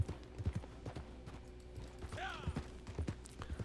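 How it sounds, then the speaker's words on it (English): Turkoman horse walking in Red Dead Online, its hooves clip-clopping in a steady, moderately quiet rhythm with a brief whinny partway through and faint background sounds. "Horse that you use, it's a Turkoman."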